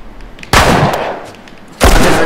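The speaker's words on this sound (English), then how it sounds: "Who's shooting at me right now?" Gunfire in The Last of Us Remastered on PS4: two loud, close bursts of shooting separated by a short lull, each sharp blast trailing into a rumbling echo, with no voices.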